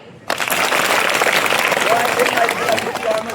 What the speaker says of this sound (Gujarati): ધ્રુવીબેન ઉપર વિશ્વાસ છે, તાળી પાડો